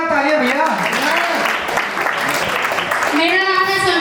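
Clapping from a crowd swells under a voice calling out loudly, the applause continuing steadily for a few seconds.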